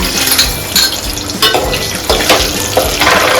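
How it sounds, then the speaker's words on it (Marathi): Cashews frying in oil in a pan for Hyderabadi chicken dum biryani give a loud, steady sizzle, with bursts of crackle and a few clinks of a spoon stirring against the pan throughout. "मी आता हे जे काजू आहेत ते मी आता थोडेसे फ्राय करून घेते, ब्राऊन कलर येईपर्यंत."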